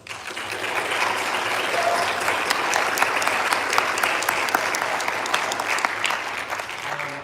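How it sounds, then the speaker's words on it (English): A school board meeting audience applauds a middle school student prize winner, a steady dense round of clapping from many hands that holds evenly for several seconds, filling the room without talk over it. "Would you guys join me in giving Elliot a round of applause for her?"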